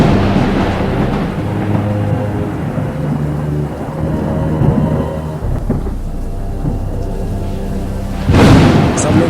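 A loud thunderstorm with heavy rain and strong wind roars steadily, with deep rumbling thunder that swells into a sharp, close crack near the end.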